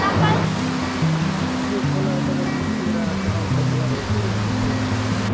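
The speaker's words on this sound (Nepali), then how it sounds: "काली गण्डकी र सेती खोलाको मिश्रण यहाँ रहेछ" Rushing river water roars steadily where the Kali Gandaki and Seti rivers meet, a loud, continuous wash of noise with muffled voices underneath.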